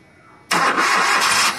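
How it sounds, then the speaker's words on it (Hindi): A car's engine cranks and catches after a wiring fault is bypassed, a sudden loud start that settles into a steady close idle, with nobody talking. "अब स्टार्ट करो गाड़ी को"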